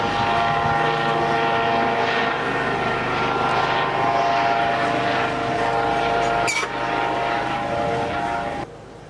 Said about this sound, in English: Fake helicopter, and it's right above my head.